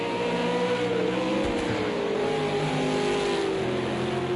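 A V8 Supercar engine in a racing video game at Fuji holds a loud, steady, buzzing drone whose pitch slides gently up and down as the revs change, with no pauses.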